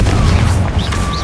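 A Confringo spell blast in Hogwarts Legacy bursts out as a loud, dense boom amid ongoing combat, with a sustained rumbling low end and short whooshing streaks layered over the blast.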